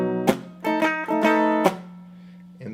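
Funk rhythm guitar strums dominant 7th chords in B for the bar 3 variation of a 12-bar progression. Choppy, punchy strums come in short clusters, ringing briefly between muted gaps. The guitar is clear, close and alone.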